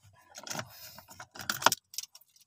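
Car keys jangle in short metallic bursts close by just before the engine of a manual-transmission car is started, with a brief quiet gap between clusters of clinks.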